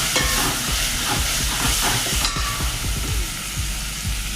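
Tomatoes frying in oil with turmeric powder give a steady, close sizzle, broken throughout by irregular scraping and clicking as a spoon stirs the pan, with no talking.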